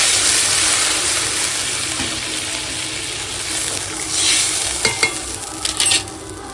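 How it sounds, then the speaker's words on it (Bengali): Taro frying in a pan with spices gives a steady, close hiss of sizzling oil, and water is added partway through, bringing a few louder splashing surges near the end. "এখন দিয়ে দেব জল"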